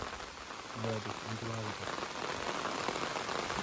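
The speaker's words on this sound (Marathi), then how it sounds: "मस्त पाऊस आला" Steady monsoon rain falling outdoors near a hillside temple in the Konkan, a constant dense patter, with a brief low voice or hum early on.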